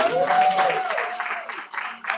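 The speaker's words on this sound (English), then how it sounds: "Let's clap it up for yourselves" Audience applause at a family entrepreneurs' retreat, a steady wash of clapping from a crowd that carries on through the moment, with a voice speaking over it.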